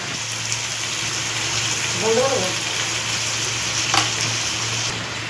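Mutton fries in oil in a pan with a continuous, fairly loud sizzling hiss that stays steady throughout, and a voice is briefly heard over it.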